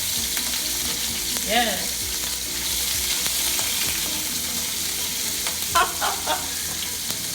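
Six cleaned, deveined shrimp sizzle steadily in a pan over medium-high heat for a Jamaican-style shrimp and grits dish, with a brief spoken word and a short excited vocal exclamation over the frying.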